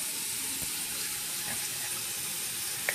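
Tap water running steadily into a sink while a child's teeth are brushed, a close, even rushing stream with no talk.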